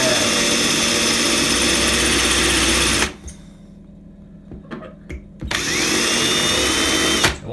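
An electric drill with a very small bit bores into shower wall tile to fit a soap tray, whining loudly and steadily, stopping for a couple of seconds with faint clicks, then starting up again.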